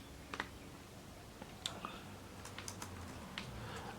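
Scattered key clicks from typing on a CHUWI LapBook 14.1 laptop keyboard, a few sharper taps spread irregularly over a quiet, faint room background.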